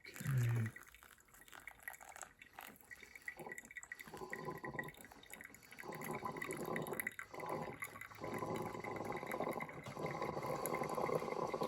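Pour-over coffee trickles and drips steadily through a dripper, a continuous close liquid patter with soft splashing that grows slightly fuller toward the end.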